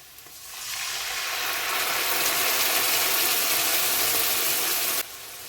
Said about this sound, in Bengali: পেঁয়াজ আমাদের লাল লাল করে ভাজা হয়ে গেছে, এবারে দিয়ে দেবো চালমগজ, আদা, রসুন, কাঁচা লঙ্কা, টমেটো কুচি বাটা।